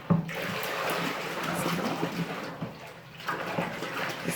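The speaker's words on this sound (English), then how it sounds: "Make sure you stir it very well." Silk paint mixture with dissolved oxide colour being stirred, a continuous watery swishing and sloshing with a brief lull midway, close and fairly steady.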